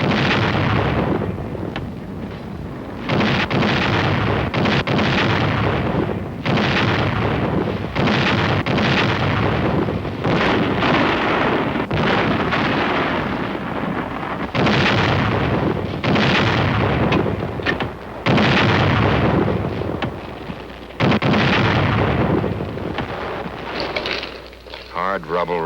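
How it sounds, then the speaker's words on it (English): An artillery gun from the Korean War in 1951 fires, giving repeated heavy booming blasts that rumble on, with a narrator's voice under and between the shots. "Number 1 gun, fire!"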